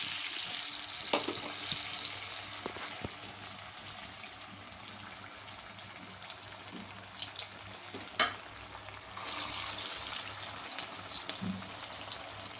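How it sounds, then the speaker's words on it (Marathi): Sweet corn kababs deep-fry in hot oil, giving a continuous hissing sizzle that swells and eases, with a few brief knocks and clicks from the pan. No voices are heard. "आता आपण आपले कबाब छान असे तळून घेऊया."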